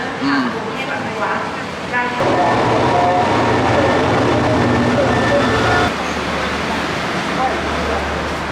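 A train rumbles and rattles loudly at a station in Bangkok, a dense mechanical roar with squeals, while a person talks over it at times.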